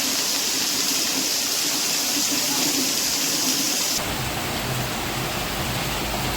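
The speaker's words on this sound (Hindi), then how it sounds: "पाटन जिले के सिद्धपुर में भी लगातार बारिश बरस रही है" Continuous rain falls in Siddhpur in Patan district as a steady broadband hiss, with the texture shifting partway through while the downpour carries on unbroken.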